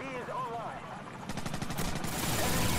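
Call of Duty 4 video game gunfire erupts as rapid automatic bursts, loud and sustained in the second half, after a player shouts and groans over the game's background sound.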